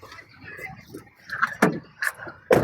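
A car door is opened: a couple of sharp, close clicks and a thud from the latch and panel, with voices murmuring in the background.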